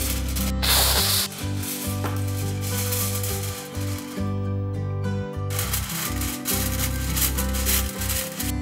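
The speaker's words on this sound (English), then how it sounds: "I'm going to cover this pan with a layer of this revolutionary frying pan foil from Acai Kasei" Frying pan foil is laid over a pan and pressed down for cooking malpua, a continuous close crinkling and rubbing rustle with no voices.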